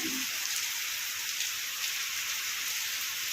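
Heavy monsoon rain pours down in a dense, unbroken hiss, loud and steady throughout with no voices.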